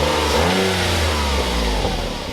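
A 1998 car engine revved by pulling a manual throttle cable, loud and close, rising and falling in a rough, harsh roar for a couple of seconds with no talking.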